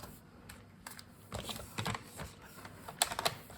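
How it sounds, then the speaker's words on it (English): A stamping trimmer scores paper for an Easter egg basket, giving quiet, close scraping and tapping strokes in short clustered bursts, with a couple of sharper clicks near the end and no talk. "Next, with my stamping trimmer, I'm going to score."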